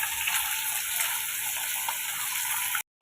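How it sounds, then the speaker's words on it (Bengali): Fish fries in hot oil in a home kitchen, giving a steady, dense sizzling hiss close up that cuts off abruptly at the end. "তো মাছটা আস্তে আস্তে ভাজা হোক"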